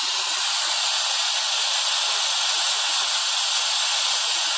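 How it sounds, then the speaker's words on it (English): Steam jets from the steam arm of a Ponte Vecchio Lusso espresso machine in a loud, constant, hissing rush that holds perfectly steady from start to finish. "Now this thing produces a great amount of steam"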